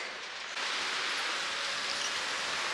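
Steady rain falling outdoors, a dense hiss that grows louder after a moment and then holds evenly, with no voices.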